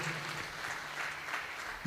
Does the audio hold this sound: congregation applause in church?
yes